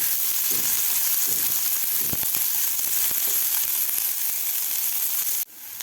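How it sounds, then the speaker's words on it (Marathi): Onion frying in a pan for Kolhapuri misal, a steady close sizzle with faint stirring scrapes and light clicks, cutting off abruptly near the end. "व्यवस्थित असा गुलाबी कलर होईपर्यंत आपल्याला हा कांदा भाजून घ्यायचा आहे"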